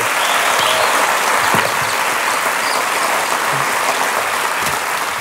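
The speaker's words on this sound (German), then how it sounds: "dieses Publikum, was ihn jetzt mit einem frenetischen Applaus hier raustragen wird" Frenetic studio audience applause for a guest on a late-night talk show, dense sustained clapping with a few sharp claps standing out, loud and continuous from start to finish.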